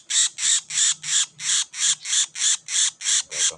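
A noisy captured wild bird, caught outdoors, gives about ten loud, harsh, evenly spaced squawking calls in a steady rhythm, close and alone with no talk.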